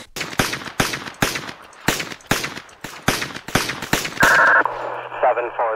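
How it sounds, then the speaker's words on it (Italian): Rapid bursts of gunfire from the mobile driving game Madout 2, a loud, fast run of sharp shots spaced fairly evenly, ending in a sustained tone and a few scattered fainter pops. "Tu devi solamente sparare così."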